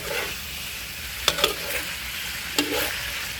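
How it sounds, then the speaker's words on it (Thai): Pork dry-roasting with salt in a pan gives a soft continuous sizzle, broken by a few clear scraping and stirring clacks of a spatula, and no one speaks. "แต่เราก็ต้องคั่วต่อไปนะครับ คั่วต่อไปจน จนน้ามันออกมาจากเนื้อหมูนะครับ"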